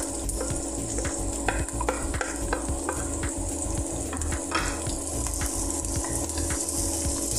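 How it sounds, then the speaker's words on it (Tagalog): Onion sautéing in a pan for Filipino string beans, a steady close sizzle with frequent scraping stirs of the spatula throughout and no talking. "Saute lang natin ang ating onion hanggang maglabas ang kanyang aromatic smell or flavor."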